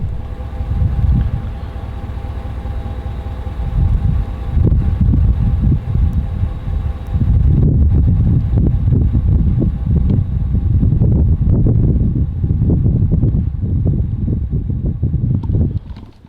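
Strong wind buffets the microphone in loud, rumbling gusts that continue throughout, with a faint steady hum underneath.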